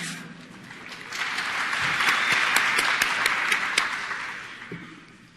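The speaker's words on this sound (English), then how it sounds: "I want to give you a big round of applause for getting up." Keynote audience at a game developers conference clapping, applause swelling from moderate to a fuller peak in the middle and then fading out over a few seconds.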